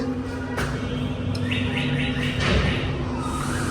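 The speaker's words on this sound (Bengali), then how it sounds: "পাখি ডাকে দেখছো কলিং বেলে" An electronic doorbell plays a short birdsong tune, chirping a few quick repeated tweets over a steady background hum.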